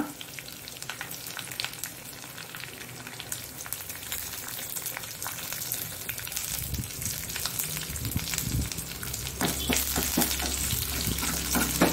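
Curry leaves drop into hot oil in a pan with garlic, setting off a dense crackling sizzle that grows louder and busier over the clip, close up with occasional stirring scrapes.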